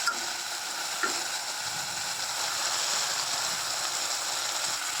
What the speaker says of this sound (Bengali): এবার আমি এটাকে সুন্দর মতো কষিয়ে নেব